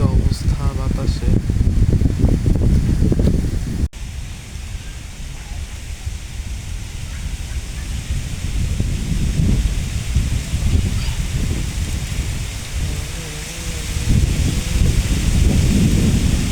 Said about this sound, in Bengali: আশেপাশে দেখেন পুরো ঘূর্ণিঝড়ের মতো বাতাসে উঠছে